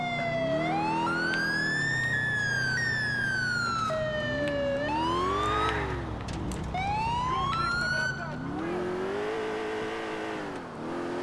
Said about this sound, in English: What is wrong with this siren?